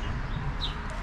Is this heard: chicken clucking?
yes